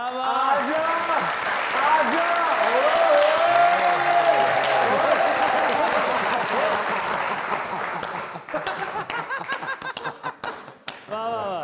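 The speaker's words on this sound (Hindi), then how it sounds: "तालियां" An audience at a comedy show claps loudly and steadily, mixed with chuckles and scattered laughter, then the applause thins into a few separate claps near the end, with voices talking over it.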